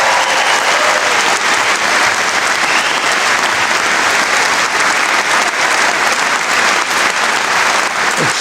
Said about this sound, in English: Can I ask for a special cheer and clap for the two signers down there